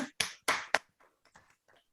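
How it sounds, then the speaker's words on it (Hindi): A few sharp hand claps welcome a guest speaker at an online meeting: four loud close claps in quick succession, then several fainter scattered ones trailing off. "दोस्तों, तो चलिए अभी हम सब जोरदार ताली के साथ विजय जी को वेलकम करेंगे"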